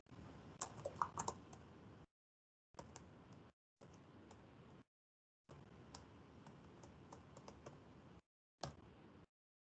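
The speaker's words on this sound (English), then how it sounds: "just type it into the chat real quick" Fingers type on a computer keyboard in quick, light clicking runs broken by short silent gaps, close and fairly quiet, with no talk.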